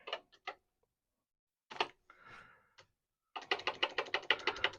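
Typing on a computer keyboard near a vintage 4040 disk drive: a few scattered key clicks with pauses, then a fast, steady burst of close, crisp keystrokes.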